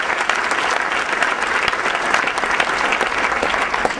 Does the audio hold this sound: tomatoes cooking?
no